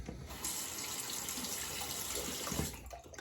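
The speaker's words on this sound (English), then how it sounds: "Rinse off my thumb there a little bit." Tap water runs steadily into a sink for a few seconds as a thumb is rinsed during a shave with a vintage Gillette old type open comb razor, a close continuous splashing rush that cuts off near the end.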